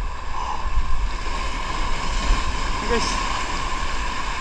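Waves surge toward the rocks at a fishing spot, a constant rushing wash of surf with wind noise, loud and close, while someone briefly talks over it.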